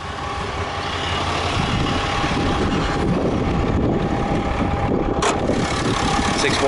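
A Ram 3500 Longhorn crew cab's 6.7-liter Cummins turbo diesel idles under the open hood, a steady loud rumble with whine on top, heard alone throughout.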